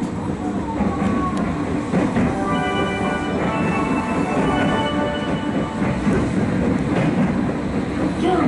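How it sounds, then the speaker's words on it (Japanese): A JR Yamatoji Rapid train pulls away from Nara station, its steady rolling rumble joined by a rising electric motor whine with clear tonal lines, heard from inside the car. "快速で奈良駅発車だね。"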